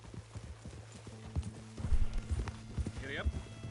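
Horse hooves clip-clop in a steady riding gait in Red Dead Redemption 2, soft rhythmic thuds over a low background hum, with a brief whinny near the end and a voice speaking.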